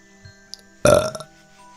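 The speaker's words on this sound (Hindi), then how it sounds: "बनारसी तोता घोंसले के बाहर आता है और धीरे से डकार लेता है" A cartoon parrot lets out one short, soft burp, preceded by faint small clicks and followed by quiet background hum.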